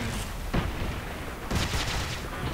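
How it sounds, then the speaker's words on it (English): Two heavy booms from an orbital strike in Tribes: Ascend burst out about a second apart, each a loud, rumbling blast within a dense wash of gunfire-like crackle. "Since when did they ever have an orbital strike in this game?"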